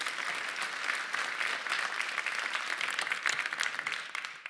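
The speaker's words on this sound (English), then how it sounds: "Applause." An audience claps steadily at a European sommelier contest final, a sustained, fairly soft patter of many hands in a hall, rising slightly near the end before fading.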